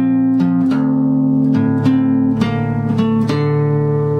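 Slow guitar riff for Three Days Grace's Never Too Late, with single picked notes ringing out one after another in a clean, sustained tone, played loud and close with no talking.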